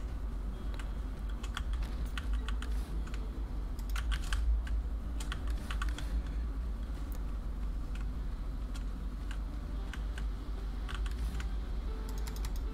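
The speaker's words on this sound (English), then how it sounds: "it's a mechanical keyboard, but I listen back to these and I think it's loud" Fast, steady clicking from a loud mechanical keyboard during a Valheim gaming stream, close and continuous over a low engine-like hum, with no talking.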